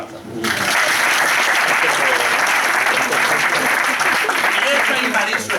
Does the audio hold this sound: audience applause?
yes